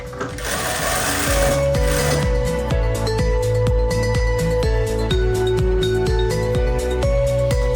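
A sewing machine stitches fabric lining and batting layers together for a phone holder, running loud and continuously with a fast mechanical rhythm after a brief start.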